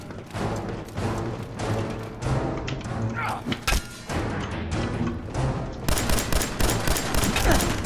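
Gunfire in Fallout 4 comes as a rapid fusillade of loud shots and heavy thuds, with bursts repeating across several seconds and a denser barrage near the end.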